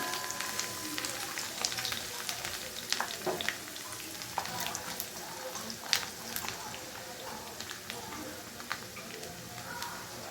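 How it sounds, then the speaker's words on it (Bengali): Chopped garlic and ginger fry in a pan with a soft, continuous sizzle, broken by scattered clicks and scraping stirs, fairly quiet and close. "আদা রসুনটাকে লালচে করে ভেজে নিব।"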